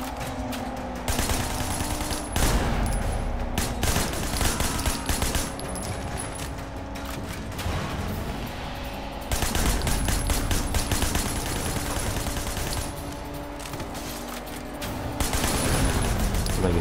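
Repeated gunfire in the Sleeping Dogs video game, aimed at car tires, with dense bursts and volleys of shots over continuous driving and engine noise from a chase.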